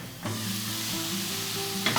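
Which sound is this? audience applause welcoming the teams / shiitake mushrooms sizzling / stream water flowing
shiitake mushrooms sizzling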